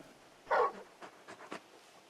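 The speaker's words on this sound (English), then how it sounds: "You're just a big puppy, aren't you? A very big puppy." Torgal, the large wolf-like dog companion in Final Fantasy XVI, gives a few soft, close breathy pants and sniffs in short uneven bursts over a quiet background.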